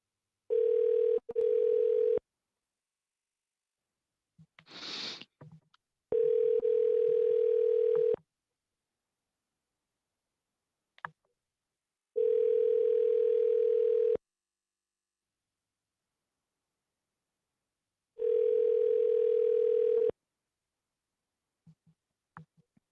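A phone call rings out with a repeated long ring tone, about four two-second rings spaced evenly with silent gaps between them and a brief sharp click in one gap.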